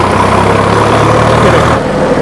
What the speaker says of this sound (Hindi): ये मैंने ट्रैक्टर को सेकंड गियर के अंदर डाल दिया और ये आपको पावर तुरंत ही जो है ना फील कराता है